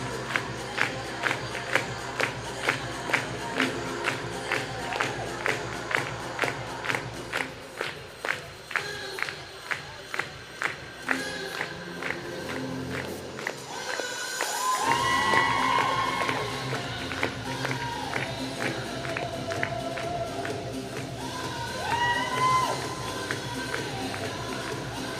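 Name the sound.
crowd cheering at a synchronised skating competition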